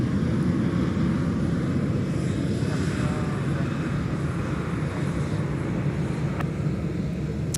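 A jet airliner departs off runway 30 left at Minneapolis–St. Paul airport, its engines a steady, continuous broadband roar heard from a distance without letup.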